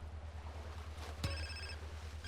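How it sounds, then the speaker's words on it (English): A mobile phone in the video game GTA: San Andreas gives a single short electronic ring over a low ambient game hum and distant water-like background. "And now you can see the phone is ringing and the marker is gone"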